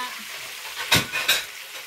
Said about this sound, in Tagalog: konting prito lang po ang gagawin ko